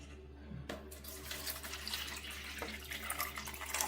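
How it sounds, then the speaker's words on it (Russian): Water runs steadily from a tap into a one-litre container, a continuous close splashing hiss that builds slightly toward the end. "Мы заливаем воду"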